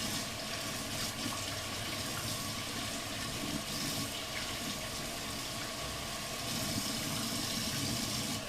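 Water runs steadily from a household tap, a continuous broadband hiss and rush that holds even and fairly loud throughout with no talking.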